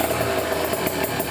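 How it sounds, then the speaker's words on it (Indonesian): A Kawasaki Ninja 150 RR idles nearby, its carburetor running without an air filter and giving a rough, pulsing intake note over a steady engine hum. "Ini ada suara ngok itu dari karbu ya."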